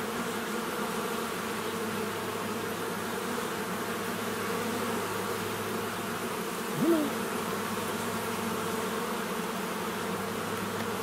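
Honey bees drone inside an opened hive, a dense, steady buzz of many wings close by, with one bee zipping past louder for a moment.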